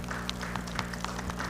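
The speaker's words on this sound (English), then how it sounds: "let's give a big round of applause to our panelists" Audience applause for panelists at a maritime student symposium in Mombasa, Kenya: faint, steady clapping over a constant low electrical hum, with occasional louder individual claps standing out.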